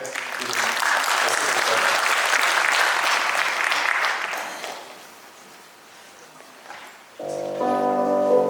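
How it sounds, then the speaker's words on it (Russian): Warm audience applause at a documentary film premiere, dense clapping that swells and then fades away, followed by a tonal musical sound starting near the end. "ваши аплодисменты"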